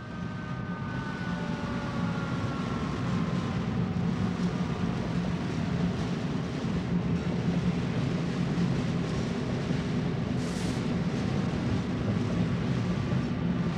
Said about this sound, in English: The next scene is a highline train running westbound on the west leg of the Keddy Y.